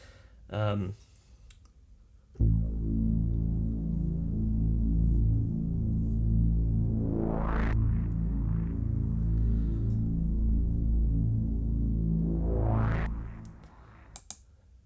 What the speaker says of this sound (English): we've got the transition effects section, which is a little bit different. So we've got some risers and some downers